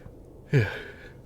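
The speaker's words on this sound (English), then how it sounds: "Sorry, forgive me, yawn." A single person's yawn, a short breathy voiced swell about half a second long, fairly close and alone against a quiet background.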